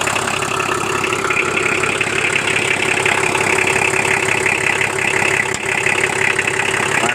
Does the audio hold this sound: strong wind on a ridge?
no